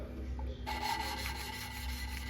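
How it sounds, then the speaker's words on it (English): Steady gritty rubbing of an engine valve being lapped against its seat with lapping compound during a broken valve spring repair, a continuous close rasp that starts after a brief quieter moment and carries on without pause. "this lapping compound is supposed to change grit as you're using it"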